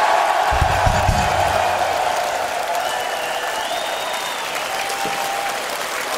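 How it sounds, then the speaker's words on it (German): Crowd at a metal concert applauding and cheering, a loud continuous wash of clapping and whistles with a brief low rumble early on. "ich glaube, das ist ein Applaus wert"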